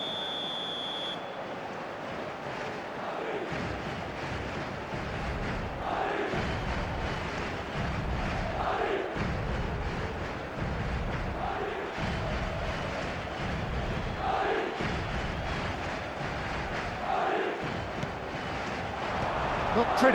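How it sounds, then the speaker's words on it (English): In the eFootball video game, a large crowd roars and applauds steadily in the background while a commentator talks over it. "it's applause all round us here"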